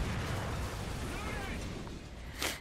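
A heavy tank cannon fires in War Thunder, from the American Cobra King tier III premium tank. Dense broadband battle noise runs throughout, with a sharp blast bursting out near the end.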